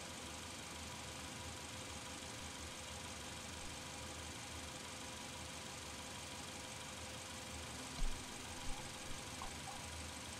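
A car engine idles steadily during an automatic transmission cooler flow test, a constant low rumble with faint vibration throughout and a few brief knocks near the end.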